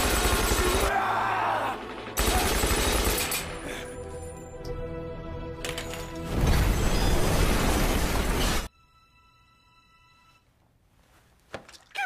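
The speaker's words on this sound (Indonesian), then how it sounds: "Ledakan bom itu membuat Profesor menangis atas kematian Berlin adiknya" A bomb explodes in a heist film, a loud, sustained roaring blast layered with rumbling debris and score, cutting abruptly to quiet ringing tones at the end.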